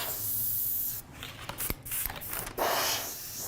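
An airbrush sprays paint in a steady hiss, broken by short pauses and puffs, then resumes, fairly quiet and close, used for painting realistic fire.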